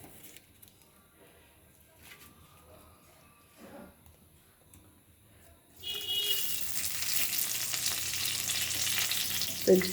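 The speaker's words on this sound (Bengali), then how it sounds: "তেজপাতা ফোড়ন দিলাম, জিরে ফোড়ন দিলাম" Bay leaf and cumin seeds hit hot oil in a kadai, setting off a loud, steady sizzle that starts partway through and keeps going after a quieter start with light kitchen clatter and brief talk.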